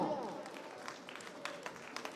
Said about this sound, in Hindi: एक बार फिर से सभी मौजूद मेहमानों के लिए जोरदार तालियां।